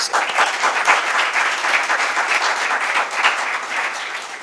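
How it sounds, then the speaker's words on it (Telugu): A church congregation at a Telugu Christian sermon claps together in a loud, sustained burst of applause with a dense, rapid patter of many hands. "చప్పట్లు కొట్టండి"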